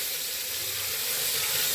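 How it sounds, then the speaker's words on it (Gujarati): Chopped onion tempering in hot oil with curry leaves in a pan for Gujarati rice: a dense, steady hissing sizzle, close and even throughout, with no speech. "હવે આપણે એમાં ડુંગળીનો વઘાર કરી નાખીએ"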